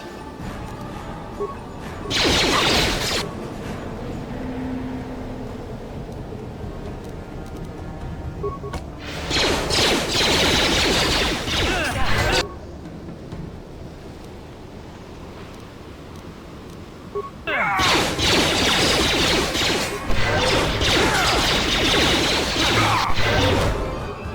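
Lightsaber deflecting a barrage of blaster bolts in Star Wars: Knights of the Old Republic, heard as three long, loud bursts of crackling, crashing noise separated by quieter gaps.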